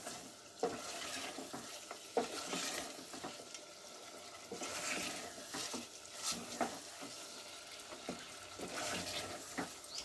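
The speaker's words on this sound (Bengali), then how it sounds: "মিট মশলা দিয়ে আবারও আমি কষিয়ে নিচ্ছি।" Chicken (desi chicken) being stir-fried in a pan with meat masala, with a steady low sizzle and repeated clacks of a spatula scraping and turning the pieces, close and fairly quiet, no voices.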